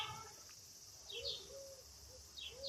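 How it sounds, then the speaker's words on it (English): Faint, continuous high insect buzz of cicadas, with a few soft bird chirps and whistles drifting in and out in the distance. "I'm hearing the birds. That cockroach that makes sounds. Cicadas, I think. The summer sound."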